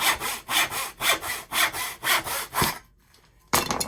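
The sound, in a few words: dovetail saw cutting wood in a bench hook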